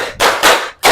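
A class claps together in a quick rhythmic pattern, with three broad, loud clap bursts close by in about a second.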